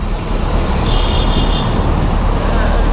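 Busy city road traffic in Madurai: a loud, steady roar of passing cars, buses and trucks close by, with a brief high horn-like tone partway through.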